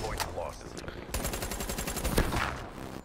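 Razorback automatic rifle in Call of Duty Black Ops 3 fires rapid gunfire bursts that repeat across the moment and sit fairly close and loud, with brief gaps between volleys.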